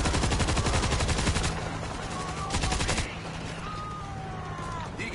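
Rapid bursts of gunfire from the zombie shooter World War Z, loud and dense for the first half, then thinning to scattered shots under game ambience.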